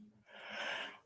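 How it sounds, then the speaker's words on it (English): A person gives a single yawn during a livestreamed kumihimo braiding session on a takadai, a soft breathy exhale swelling and fading over about a second, close to the microphone. "Oh, sorry about the yawn."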